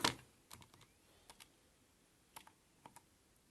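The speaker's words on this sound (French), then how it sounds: "Je tape tout ça à ma calculette." Calculator keys being pressed while entering a quadratic-formula calculation, a string of light close clicks in small irregular clusters after an initial louder knock, with no talking.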